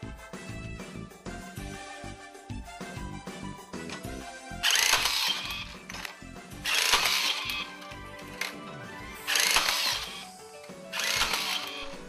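Max ReBar tier, a battery-powered rebar tying tool, whirring through several quick tying cycles, each a short loud mechanical buzz and twist repeated at a steady pace.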